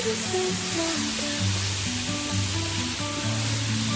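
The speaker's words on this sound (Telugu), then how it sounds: "ఇగోండి వీడియోలో చూపిస్తున్నట్టుగా బాగా ఫ్రై చేసుకోవాలి" Grated beetroot fries in a pan with a steady, dense sizzle and a faint low hum running underneath, with no speech.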